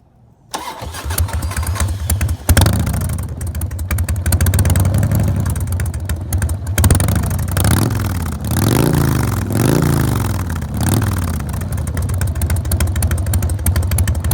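A carbureted Harley-Davidson motorcycle engine cranks and fires up, settling into a loud, close, lumpy idle, then revs in a series of rising and falling throttle blips before easing back.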